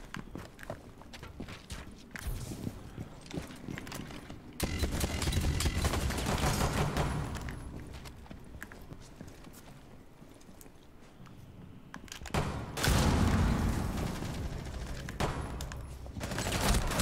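Gunfire in the PS5 version of Rainbow Six Siege, bursts of automatic shots and rapid impacts in several loud clusters separated by quieter stretches with footsteps and movement.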